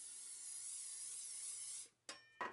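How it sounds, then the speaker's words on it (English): Cooking oil sprayed from a can onto a pie pan while preparing a pumpkin pie: a steady close hiss for nearly two seconds, then two short separate bursts. "Take your pie pan and"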